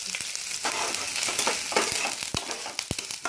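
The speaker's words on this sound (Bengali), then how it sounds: "মিডিয়াম সাইজের পেঁয়াজকে আমি কুচিয়ে নিয়েছি এর মধ্যে দিয়ে দিচ্ছি" Chopped medium-sized onion tossed into hot oil left from frying chillies crackles and sizzles loudly and close, a dense hiss with a few sharp clicks of stirring.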